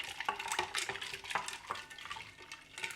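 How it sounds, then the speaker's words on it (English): A spoon swirls hibiscus iced tea in a glass full of ice, giving quiet, repeated clinks and rattling of cubes in a steady stirring rhythm. "I'm gonna give this a stir"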